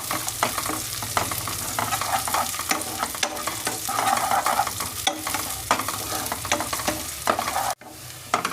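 Small shallots, cashews and raisins fry and sizzle in hot fat in a pan for thari kanji, a Ramadan drink, with steady crackling and frequent stirring scrapes, closely heard with no talking.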